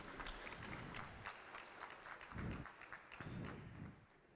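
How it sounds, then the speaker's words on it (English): Faint applause from an audience at a university summer school session sounds distant and muffled, with low thumps rising and falling beneath it. "Let's please applaud Eja Konimo once again."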